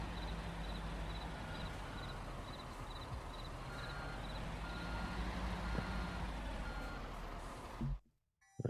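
A big red truck reversing in the video game Construction Simulator 3, its evenly spaced backup beeps pulsing over a loud steady engine rumble that cuts out abruptly near the end.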